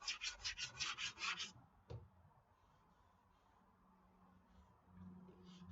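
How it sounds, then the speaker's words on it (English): Close, rhythmic sanding strokes on a damaged foam model airplane wing, about eight quick scratchy rubs in a row, then a knock and quiet handling with a few softer rubs. "I'm not going to try to sand every little nook and cranny out of this."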